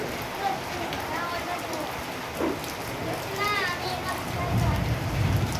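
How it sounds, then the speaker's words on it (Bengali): Rain falls steadily in a continuous soft patter on surfaces while people, including children, talk and call out nearby over it. "এই যে বৃষ্টি পড়ছে, এত ডেকে এত করে বৃষ্টি পড়ছে"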